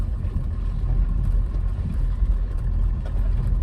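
A car engine on a practice circuit drones steadily and fairly loud with a low rumbling tone throughout, heard alone without any voices.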